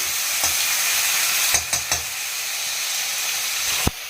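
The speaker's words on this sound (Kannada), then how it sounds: "ಈಗ ಎಣ್ಣೆಯಲ್ಲಿ ಆಲೂಗಡ್ಡೆನ ಹಾಕಿ ಒಂದು ಸತಿ ಈ ಥರ ಮಿಕ್ಸ್ ಮಾಡ್ಕೊಳ್ಳಿ" Potatoes sizzling loudly in hot oil in a pan, a dense continuous fry with a few sharp scrapes and knocks of a spoon as they are stirred, close and without voices.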